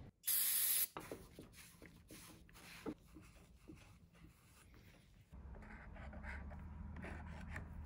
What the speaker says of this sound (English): first get some brake clean and clean that out